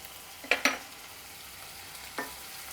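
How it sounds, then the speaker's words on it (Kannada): Green chillies and curry leaves fry quietly in a pan with a soft, faint sizzle, broken by a couple of sharp spatula clicks near the start and another toward the end. "ಅರ್ಧ ಹಸಿಮೆಣ್ಸಿನ್ಕಾಯಿ ಬೆಂದಾಗ ನಾನು ಈ ಕರಿಬೇವನ್ನು ಸೇರಿಸ್ಕೊಳ್ತೀನಿ ಅದಕ್ಕೆ."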